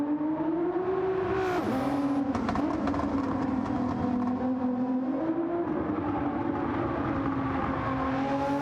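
Race cars lapping Suzuka in a racing video game: a loud, sustained engine whine that dips briefly as if downshifting, then holds a steady high drone, continuous and close with no talk.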